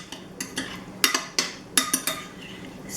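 Food being stirred in a pot, heard as a series of sharp, close utensil clinks and scrapes against the pot at an irregular rhythm, with quieter gaps between strokes and no talk.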